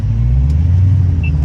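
A Dodge Hellcat Redeye on the highway gives a loud, steady low engine rumble with strong droning tones, heard up close from inside the car, with no talk.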